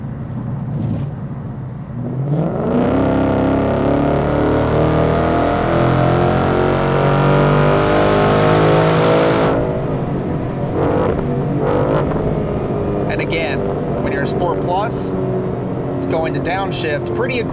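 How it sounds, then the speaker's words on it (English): A Ford Mustang with the 10R80 automatic in Sport Plus mode revs up as the active exhaust valve opens, the engine note climbing and holding loud and close before easing off, with a person talking over it. "give it a little bit of gas, and see if I can show that exhaust valve opening as throttle position is increased"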